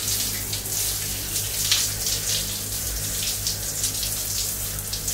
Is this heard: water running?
yes